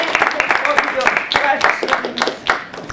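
An audience applauds for Ava at a talk for Columbia students, a short burst of clapping from many hands, loud and close, with a voice speaking over it.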